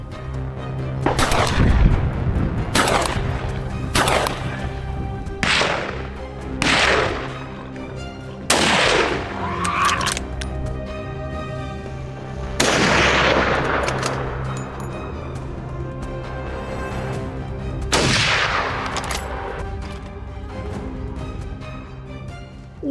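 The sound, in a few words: 308 rifle gunshots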